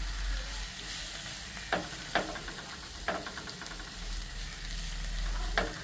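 Prawn peel and raw mango curry with turmeric and salt being stirred in a sizzling pan, a steady frying hiss broken by a few sharp spoon scrapes and knocks against the vessel, close and alone.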